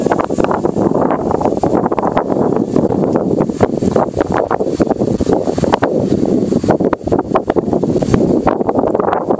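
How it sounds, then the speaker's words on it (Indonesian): Strong wind buffets the microphone on an open field used for flying a long-range FPV drone, a loud continuous rushing roar with gusty surges and no voices. "Anginnya gede banget, guys."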